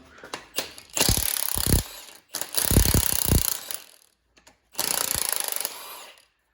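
Ratchet wrench working a bolt loose on a heat-damaged Chevrolet 5.3 V8 pulled from a fourth-generation Camaro: three loud bursts of rapid metallic clicking, close up, separated by short pauses, with no talk.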